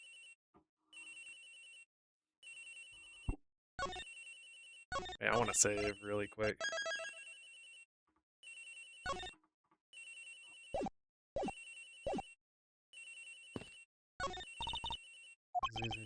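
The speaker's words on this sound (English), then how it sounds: "It's ringing. Agent Hicks' phone. It's ringing from somewhere, sir." A cell phone rings in the Ace Attorney game Turnabout Airlines, repeating short electronic trill bursts at a steady rhythm, with a loud cluster of game effects midway and a player talking briefly over it.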